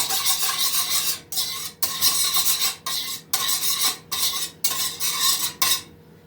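A spoon stirs yeast in a bowl to dissolve it for cheese bread dough, a series of scraping, rasping strokes with short pauses between them, close and fairly loud, no talking.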